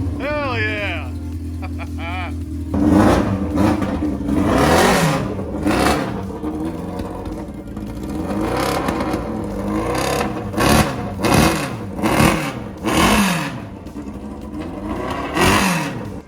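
A home-built golf cart's engine whines and revs through repeated rising and falling sweeps, buzzing loudly close by and mixed with scraping and clatter, while people talk over it.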